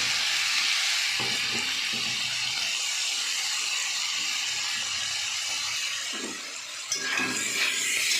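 Water poured into a hot pan of potatoes seasoned with turmeric, chili powder, salt and tomato, a steady loud sizzling hiss running throughout with a brief dip and a fresh surge near the end, no talk.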